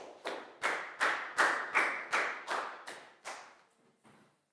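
A Year 4 class claps in about nine evenly spaced, sharp bursts, close and loud, each fading quickly, with the beats thinning out and growing fainter toward the end.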